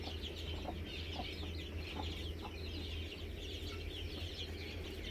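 A hen clucks in a Thai fighting-cock breeding pen, soft repeated clucks over a steady low hum, alone and fairly close.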